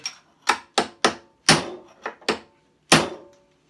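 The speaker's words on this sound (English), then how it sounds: "So take one of my chisels and pop it up that way" A chisel is driven in with sharp, close wooden knocks to pry a piece loose. There are eight distinct strikes at an uneven pace, with short silences between them.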